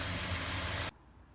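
Car engine idling to warm its oil before an oil change, a steady close rumble that cuts off abruptly near the end and leaves near silence.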